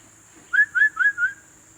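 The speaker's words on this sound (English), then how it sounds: "Black hawk eagle," A black hawk eagle calls in Costa Rican countryside near Guatuso and La Fortuna, giving four clear, evenly spaced whistled notes in quick succession. The calls stand out alone against a quiet background with a faint steady hum.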